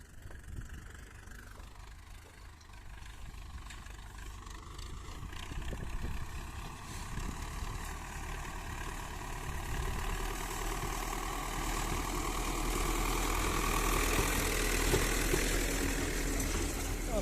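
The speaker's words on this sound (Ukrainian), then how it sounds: "Так працює гребеночка." A tractor engine drones steadily while pulling a comb harrow across a field, a continuous mid-to-low rumble that grows gradually louder and nearer over the span, with no other clear sounds.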